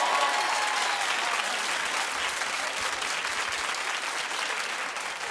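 A talk-show studio audience claps loudly and steadily, a dense continuous burst of many hands that carries through the clip and tapers slightly at the end, with a voice briefly audible at the start.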